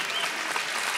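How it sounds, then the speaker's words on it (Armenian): A studio audience at the Armenian Masked Singer show applauds the penguin-costumed performer, a dense steady wash of clapping filling the whole moment. "ծափահարում ենք պինգվինին"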